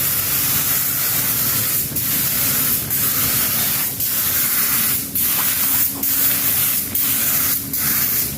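A spray gun paints the body of an R34 four-door being converted to a GTR body kit, giving a loud, continuous close hiss broken by short, regular dips as the trigger is released between passes.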